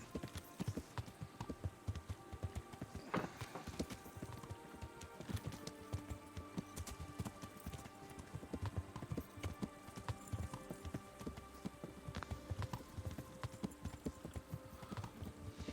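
Horse hooves clip-clopping steadily while riding in Kingdom Come Deliverance, a continuous even trotting rhythm with occasional faint whinny, moderately quiet under game ambience.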